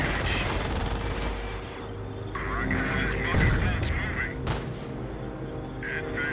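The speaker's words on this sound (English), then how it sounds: "AT gun and machine gun" An anti-tank gun and machine guns fire in the Company of Heroes World War II strategy game, with sharp booms and rattling bursts over battle noise, interrupted by brief quacking-like effects.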